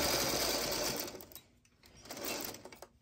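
A sewing machine stitches patchwork quilt pieces in a fast, steady whirring run that stops midway, followed by a shorter burst and lighter mechanical clicks, close and fairly quiet.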